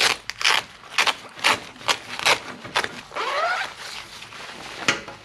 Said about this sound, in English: It has its own closure zip to really seal you and protect you from the weather.